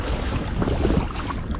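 A small outboard motor pushing a boat downriver, heard as a steady broadband rumble mixed with wind and water noise, fairly loud and continuous with no talk.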